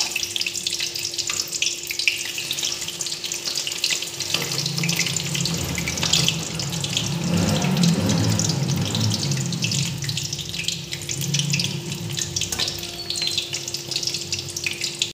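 Chicken Manchurian balls fry in a shallow layer of oil in a kadai, giving a continuous crackling sizzle with a steady, busy hiss and no talking.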